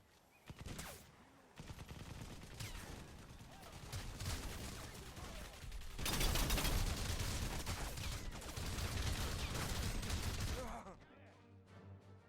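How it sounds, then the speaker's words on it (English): A gun emplacement firing in the video game Crysis Remastered, sustained rapid automatic gunfire that rolls on for about ten seconds, loud and dense, then cuts off abruptly. "I had another instance of a gun emplacement firing at me, but with no one behind it."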